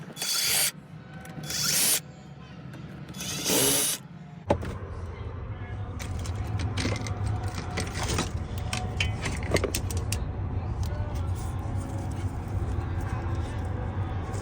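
Trim panel being pried off inside a Kenworth T400 truck cab: a few loud plastic clattering bursts at first, then continuous rustling, handling and faint clicks close by.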